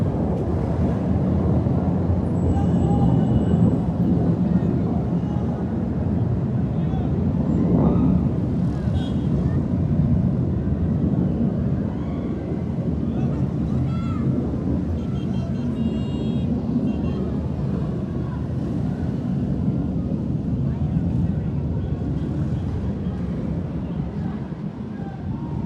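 Fighter jets flying over Beirut, heard as a loud, steady, broad roar that rumbles continuously with no break and no voices.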